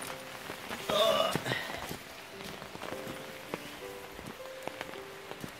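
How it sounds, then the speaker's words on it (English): Rain falls softly outdoors on a breakfast walk, a faint steady patter with scattered drips and a few footstep-like taps, one louder rustle early on, and no voices. "It's raining."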